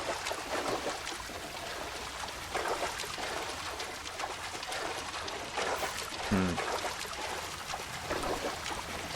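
Water pours and trickles steadily from leaking pipes in a flooded basement in the video game LA Noire, a continuous splashing, gurgling wash with a brief low thump near the middle.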